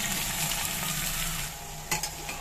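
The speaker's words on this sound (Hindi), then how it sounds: "प्याज को हमें भूनना है, बिल्कुल काला नहीं करना है, हल्का गोल्डन ब्राउन कलर आ जाए बस इतना ही फ्राई करना है प्याज को।" Onions fry in hot oil and ghee for a mutton stew, a steady close sizzle with light stirring clinks near the end.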